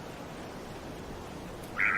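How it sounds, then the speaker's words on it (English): A steamer duck gives a single short, loud quack near the end, following a stretch of quiet, steady outdoor background noise. "Steamer ducks, the most aggressive in the world."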